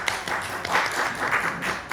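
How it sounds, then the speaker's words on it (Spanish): An audience at a poetry book presentation at a German club applauds, a steady patter of many hands clapping at moderate volume, swelling briefly at the end. "Un aplauso,"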